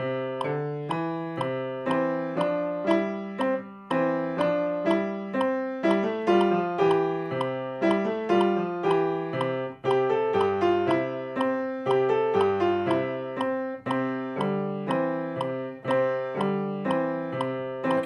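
Bright piano notes in overlapping lines, Frère Jacques played as a round, the simple tune entering again on top of itself, steady tempo, played alone with no talking.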